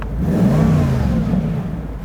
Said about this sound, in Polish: ależ on pięknie brzmi